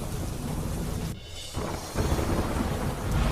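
Heavy rain pours during a storm in Surat, Gujarat, a dense continuous roar with deep thunder rumbling underneath, briefly dipping before swelling louder again.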